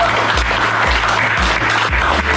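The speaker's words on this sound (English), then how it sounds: "So give you guys a round of applause." An audience claps steadily for a franchise award winner, a loud, continuous wash of clapping heard throughout.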